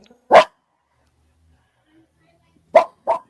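A dog barks three times in short, loud bursts: one bark near the start, then a pause, then a quick pair near the end. No one talks over the barks.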